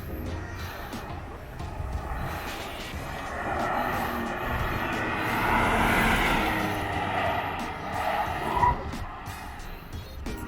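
A Proton X50 SUV runs a slalom and lane change test, its engine rising and falling at a moderate distance with tyre noise swelling through the turns.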